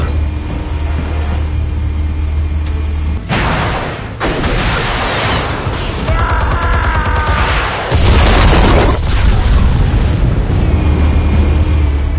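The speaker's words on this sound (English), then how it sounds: "Explosives armed. Fire when ready." Explosives detonating: a sustained roaring rumble broken by heavy booming blasts, with crackling debris and a second big surge of noise partway through, loud and close.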